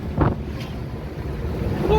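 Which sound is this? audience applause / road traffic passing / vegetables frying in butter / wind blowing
wind blowing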